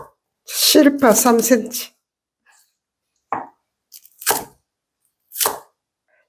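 A kitchen knife chops radish and green onions on a board. Several sharp, separate chops follow a stretch of nearby speech and are spaced about a second apart, each loud and close.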